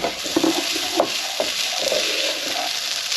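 Tomatoes hit a hot pan for Greek-style orzo, giving a steady crackling sizzle with a few brief stirring scrapes and clicks, close and fairly loud throughout.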